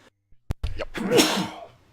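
A single sharp sneeze bursts out close up after a brief intake of breath, trailing off over about a second with no talk around it.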